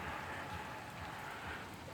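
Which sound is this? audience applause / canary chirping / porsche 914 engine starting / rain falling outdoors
rain falling outdoors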